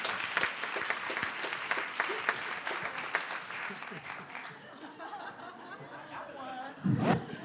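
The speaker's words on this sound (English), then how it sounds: "Please give an applause for Kevin." Applause from a summit audience welcoming a panelist, dense at first and fading into light laughter and murmured voices, with a louder voice rising near the end.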